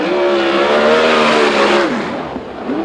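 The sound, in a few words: 410 sprint car racing on oval track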